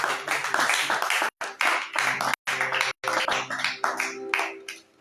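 Church congregation clapping and applauding during a French-language prayer service, a dense burst of handclaps broken by a few brief gaps, fairly close and lively.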